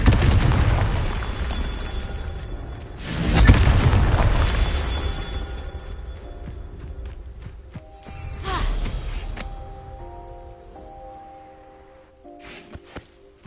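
A Confringo spell explodes in the Hogwarts Legacy video game, a loud booming blast that rumbles and fades, followed by a second, smaller burst and scattered chiming game effects trailing off.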